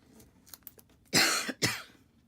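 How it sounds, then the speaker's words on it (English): One person gives a couple of loud, harsh coughs close to the microphone after a few soft breathy throat sounds. "I'm going to get this cough under control"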